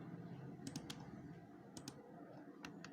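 A few quick keystrokes on a computer keyboard entering a short command in AutoCAD, light clicks in two or three small clusters, faint and close over a low room hum.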